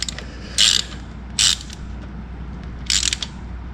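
Three short bursts of ratcheting on a bolt being tightened on a 1971 Corvette during restoration, each clicking run about a quarter second long, close and fairly loud over a low steady hum.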